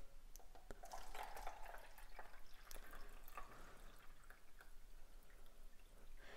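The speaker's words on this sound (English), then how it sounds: "So I'm gonna pour the solution over here." A solution pours into an electrolysis cell during a copper sulfate experiment: faint, soft splashing and trickling with scattered drips, quiet and close with no talk over it.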